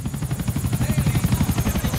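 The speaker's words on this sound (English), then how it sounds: "briefly piloting a helicopter to pick him up" A helicopter in Grand Theft Auto gives a steady, fast rotor thump with a pulsing low chop and a constant engine whine, loud and near, with no voices.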